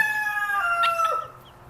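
Rooster crowing with chicken clucks from a backyard flock of a dozen hens plus young chicks, a single loud, near crow over soft background clucking.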